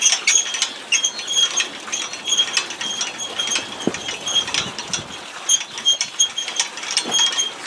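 A hydramatic mechanism runs at about one cycle per second, giving a close, continuous stream of rattling mechanical clicks and ratchet-like ticks with a repeating rhythm and occasional low thumps.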